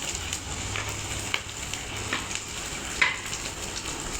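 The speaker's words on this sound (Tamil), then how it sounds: "இந்த மாதிரி 2 பக்கமும் நல்லா பொரிஞ்சு வேணும்." Rice puri frying in hot oil, with a faint, steady sizzle and a few soft bubbling pops, close by and quiet.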